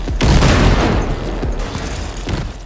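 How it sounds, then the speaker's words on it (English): Grenades going off in Cyberpunk 2077, several loud booming blasts in quick succession, the first strongest, followed by crackling debris and a later smaller burst. "I'm just gonna hit you with grenades"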